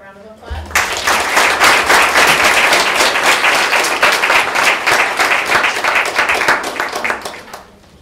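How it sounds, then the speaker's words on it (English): Students at a high school assembly give a guest speaker a sustained round of applause, dense steady clapping from a large crowd lasting several seconds before tapering off. "Let's give Mr. Gandhi a round of applause."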